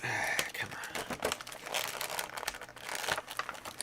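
Crinkling and tearing of plastic packaging as a Lego Crockmaster minifigure is opened, close and continuous with irregular crackles and rips.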